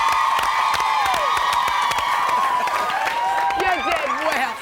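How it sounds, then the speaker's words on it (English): Studio audience at a talk-show hunk contest applauding a contestant, a steady spread of clapping with scattered whoops, moderately loud and continuous. "give the guy a clap for effort"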